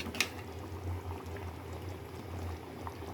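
A pot of tuna fish curry boils steadily, with continuous bubbling and small pops close by, a brief sharper splash near the start, and no talk over it.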